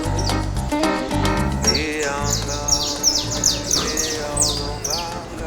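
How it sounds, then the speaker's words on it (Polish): Small caged birds offered for sale in Brazil chirp and tweet rapidly, a dense, overlapping chorus of bright calls close by with no pauses. "Ptaszki w klatce."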